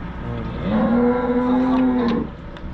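Charolais and Brahman cattle on a farm: one long, loud, close moo swelling in and fading out, with low ambient noise around it and no talk.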